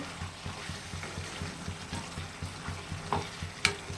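Shrimp dropped into a pan of cooked Malabar spinach greens and vegetables, frying with a steady sizzle and a quick, regular scrape of stirring, plus a couple of sharper clinks near the end; close and moderately loud.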